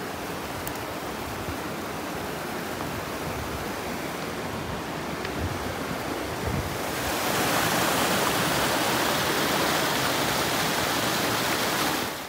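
The Yamuna river flows near Janki Chatti on the route to Yamunotri, a steady, close, full rushing of water that swells louder about halfway through and carries on alone with no voices.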